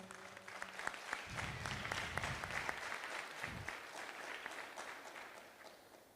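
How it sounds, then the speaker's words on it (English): A crowd at a Freedom Month community gathering in Heidedal applauds, with continuous clapping from many people at moderate volume and a few low murmurs of voices underneath. "Let us just give the Department of Sports, Arts and Culture a round of applause."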